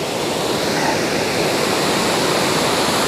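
Steady, full rushing roar of a waterfall beside Balingen castle on a snowy day, dense and continuous with no variation and no voices.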